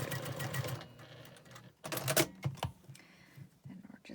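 A sewing machine stitches quilt pieces for a frayed four-patch block in two or three close, steady bursts, with brief pauses between runs.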